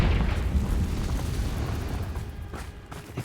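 The Confringo blasting spell explodes in the Hogwarts Legacy video game, a heavy, rumbling boom that fills the clip and slowly fades, with a few smaller crackling bursts near the end.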